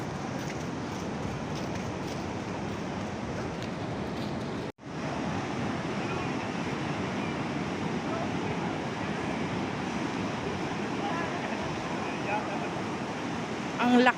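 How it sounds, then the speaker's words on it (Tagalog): Powerful surf breaks and roars continuously along a beach in Baler, Aurora, loud and close with wind buffeting the microphone, a brief dropout partway through. "Ang lakas ng alon."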